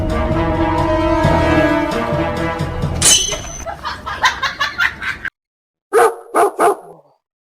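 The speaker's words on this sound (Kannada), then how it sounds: "ಈ ನಾಯಿ ಒಂದು ಎದ್ದು ಬಾವು ಬಾವು ಬಾವು ಬಾವು ಅಂತ ಹೊಗಳ್ತಾವ" A dog barks in a run of short, uneven bursts after a stretch of tonal music, then three loud, close barks ring out alone against silence.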